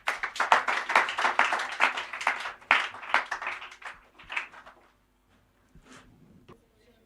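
A church congregation at a Sunday service claps in a burst of scattered applause that thins out and fades to near silence after about four seconds, with a few stray claps trailing off.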